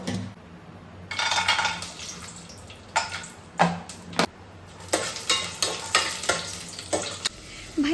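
Ghee sizzles in a hot kadhai on a gas stove while cooking samak for a vrat meal, with bursts of crackling, scraping stirs and clinks of a spoon against the pan.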